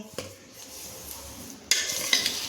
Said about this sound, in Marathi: हे खोलगट भांडं घेतल्यामुळे मिश्रण किती व्यवस्थित मिक्स होत आहे